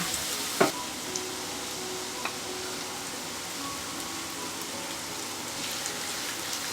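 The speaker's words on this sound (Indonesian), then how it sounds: "Tumis dulu sebentar sampai bawang merahnya layu dan harum" Garlic and shallots sauté in a couple of spoonfuls of hot oil, giving a steady, close sizzle and crackle with a few sharp pops from stirring near the start.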